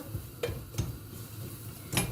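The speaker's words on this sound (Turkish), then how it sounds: "Kesinlikle karıştırmayı bırakmayacağız." A spoon scrapes and clinks against a steel pot while semolina halva is stirred, giving a few sparse, soft knocks spaced out over quiet background.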